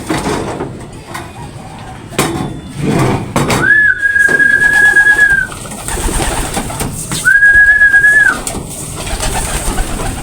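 Two drawn-out whistled coos rise and hold, separated by a pause, inside a pigeon loft, set against rustling and shuffling.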